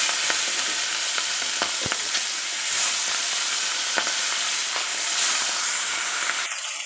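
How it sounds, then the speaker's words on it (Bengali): Chital fish pieces frying in hot oil in a kadai, a steady close, loud sizzle and crackle running throughout with occasional sharp pops, no voices. "মাছটা ভেজে নেব।"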